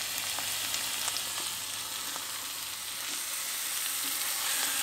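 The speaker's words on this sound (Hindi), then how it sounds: "अब इसको पकाना शुरू करेंगे हिला हिला करके" Marinated chicken sizzling with minced keema in a hot pan, a continuous dense frying hiss with faint stirring knocks throughout, no voices.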